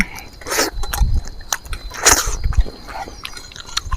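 Close, crisp crunching bites and chewing of eel and chicken heads in spicy soup, several irregular crunches with quiet pauses between, no speech.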